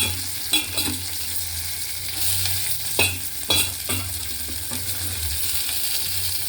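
A tempering of mustard seeds, cumin, green chillies and curry leaves sizzling in hot oil, a constant crackle punctuated by a few sharp clinks and stirring scrapes, close by.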